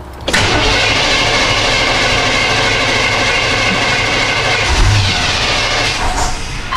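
An old truck that has trouble starting cranks and fires up, its engine catching quickly and running loud and steady up close for several seconds, with a slight surge partway through and no speech.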